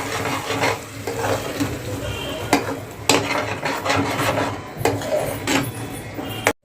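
A spoon stirs cooked rice mixture for kheer in a pan, giving close, continuous scraping and wet churning with sharp clinks against the metal now and then, cutting off abruptly at the end.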